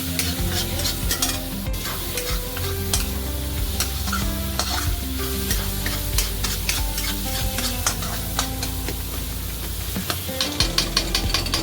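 Masala for Amritsari pindi chole being roasted and stirred: a steady sizzle under rapid, repeated scraping and clinking of a spoon against the pan, close and continuous, busier toward the end, no voices.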